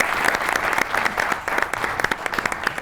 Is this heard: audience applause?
yes